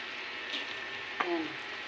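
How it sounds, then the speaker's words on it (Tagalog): Sweet and sour fish sauce, with fried fish added, boiling in a pan makes a soft, steady sizzling hiss that runs throughout, with one brief clink partway through. "Yan guys, kumukulo na."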